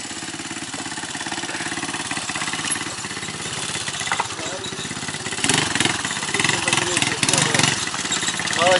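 A motorcycle engine rumbles steadily on a mountain road during a hike, close and fairly loud, getting louder toward the end, with people talking over it.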